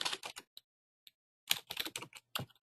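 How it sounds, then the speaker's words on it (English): Typing on a computer keyboard, quick clusters of crisp key clicks separated by short pauses, close and fairly quiet, with no voices. "We're going to type in people who are interested in behavior"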